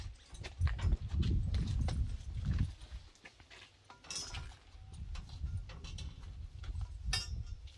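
Horse hooves clip-clop on hard ground in an uneven walking rhythm, nearby, over a low background rumble.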